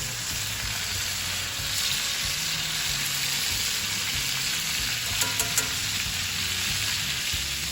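Reverse-seared steaks sizzle loudly in a hot pan just after flipping, a steady close frying hiss with a few brief clinks partway through and no talking.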